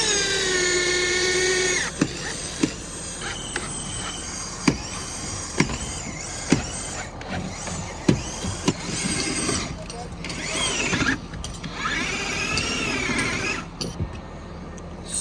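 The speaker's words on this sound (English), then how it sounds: "we couldn't drill through that log" Power drill boring into a log at a winter log cabin build, whining and bogging in uneven bursts with sharp knocks, close and loud, with people talking over it.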